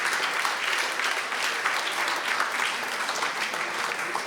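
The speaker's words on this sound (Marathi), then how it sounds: "टाळ्या होऊन जाऊ द्या एकदा जोरदार." An audience at a concert of songs claps steadily and enthusiastically, a dense wash of many hands continuing for several seconds with no break.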